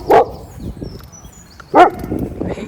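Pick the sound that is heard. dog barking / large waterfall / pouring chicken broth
dog barking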